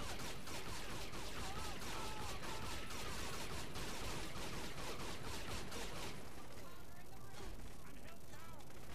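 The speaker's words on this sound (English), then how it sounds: "Don't run in front of my sniper rifle, lady." Sniper rifle fire in the video game Saints Row: The Third, in a dense loud wash of gunfire and explosions under game noise and speech, easing slightly toward the end.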